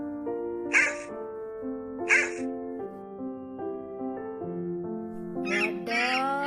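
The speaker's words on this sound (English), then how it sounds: "What does cat says? Meow, meow." A cat meows twice in clear, separate calls, then gives a longer, rising meow near the end, set over a sustained tonal backing that runs the whole way through.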